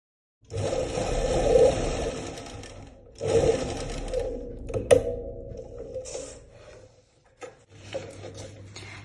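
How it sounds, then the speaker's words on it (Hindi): A sewing machine stitches a strip onto pant fabric in two sustained whirring bursts, close and loud, followed by quieter clicks and a low hum. "इस तरह से हमें यहाँ पर सिलाई लगानी है और यहाँ पर हाफ इंच छोड़ते हुए हमें पट्टी को अटैच कर लेना है"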